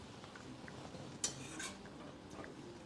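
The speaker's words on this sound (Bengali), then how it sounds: "শাকে একটু নাড়া দিয়ে দেবো।" A utensil stirs red amaranth greens cooking in a pan. One metallic clank is followed by soft scraping, all quiet and close.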